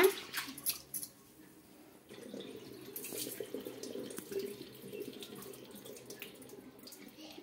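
Water drains from soaked sorghum grains, trickling and splashing steadily with some wet squishing, faint and continuous.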